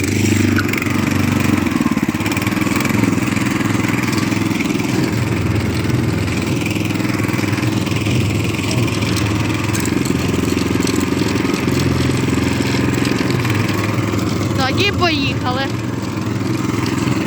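A walk-behind tractor's small engine runs steadily and loudly throughout, with a brief rev near the end, while people talk over it in a snowy outdoor setting.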